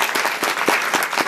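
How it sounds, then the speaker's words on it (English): Audience applause for the speakers at a public forum at a college, dense, steady clapping from a crowd in a hall, sustained and fairly loud with no talking over it. "Let's give a round of applause to the guys."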